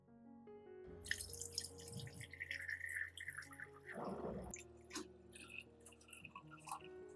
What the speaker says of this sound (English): filter out the grounds, keeping only the clear liquid.